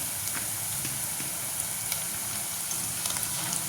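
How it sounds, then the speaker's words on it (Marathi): Ginger garlic paste frying in a pan for dal khichdi makes a dense, continuous hiss and sizzle with small crackles scattered through it, close up and with no talking. "अशी मस्त तळून घ्यायचं आहे ना"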